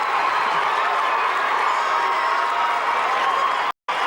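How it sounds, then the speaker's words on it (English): A concert crowd at the 1994 Jackson Family Honors cheers and applauds steadily in a big, dense roar of clapping and shouting, continuous until a short cut near the end. "Oh, hear that crowd."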